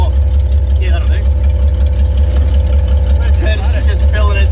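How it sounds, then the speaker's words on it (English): A 1974 Nissan Caball truck engine idling, a loud, steady low rumble close by with voices talking briefly over it. "we've literally got it idling"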